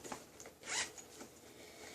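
Zipper on a small backpack pocket pulled open, a quick close rasping zip at mid-clip among faint handling clicks and rustles, quiet overall.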